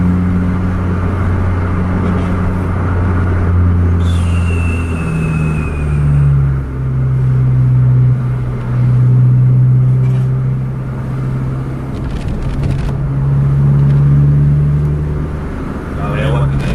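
Two buses, a Scania and a Mercedes-Benz, drive at about 70 km/h with a steady loud engine drone and road rumble, gear shifts audible, as people talk over it.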